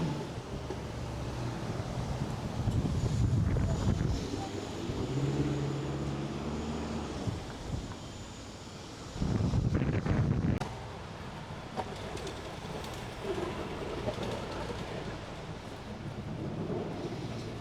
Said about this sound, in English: I'll get back with you in a moment when the wind's not so bad.